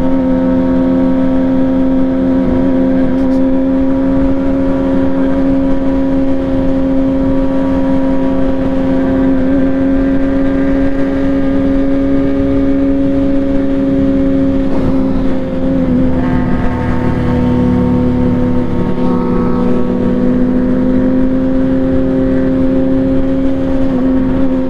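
A loud, steady Kawasaki ZX6R sport motorcycle engine drones with a strong exhaust note from under the seat, holding a constant pitch with a slight shift in revs near the end, on a highway ride.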